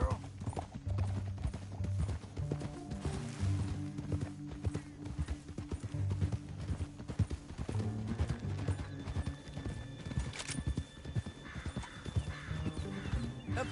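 Horse hooves gallop in a rapid clip-clop rhythm through a canyon in the video game Red Dead Redemption 2, with neighing and snorting, close and steady under spoken dialogue.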